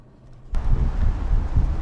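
Wind gusts buffet a car's microphone on a mountain pass, a low rumbling roar that jumps in abruptly and stays loud and steady without a break.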